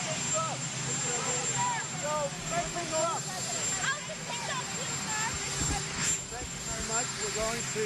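A jet aircraft roars steadily in the background, a broad continuous rumble and hiss that holds through the whole stretch while people talk over it.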